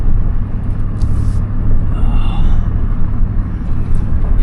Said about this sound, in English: This truck's having a hard time right now.